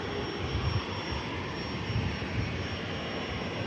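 Ryanair jet departing Manchester Airport for Prague, a steady broadband engine roar heard from a distance with no talk.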